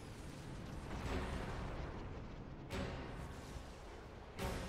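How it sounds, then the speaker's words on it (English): Distant explosions rumble in Xenoblade Chronicles 2, a low continuous booming with two sharper bursts near the middle and end, fairly faint and without talk. "An explosion?"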